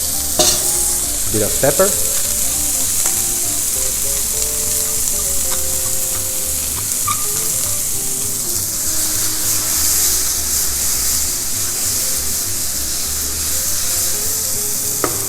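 Mushrooms fry and caramelize in a hot pan with a steady, loud sizzle throughout, broken by scraping stir strokes; a voice speaks briefly over the cooking.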